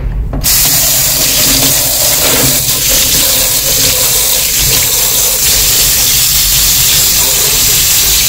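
Water rushes with a loud, continuous hiss as a luffa sponge is soaked, starting abruptly and holding steady and close throughout.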